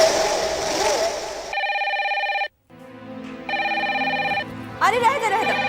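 A telephone rings in repeated electronic bursts, each a steady buzzy tone separated by short pauses, loud and close, preceded by a moment of talk and followed by a voice starting up.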